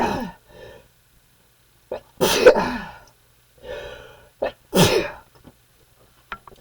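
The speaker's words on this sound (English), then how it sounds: "I'm going into a sneeze" Human sneezing in a quiet room: a few separate bursts, two of them sharp and loud, with softer breaths and throat noises in between, close to the microphone.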